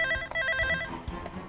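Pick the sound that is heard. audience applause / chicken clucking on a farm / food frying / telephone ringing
telephone ringing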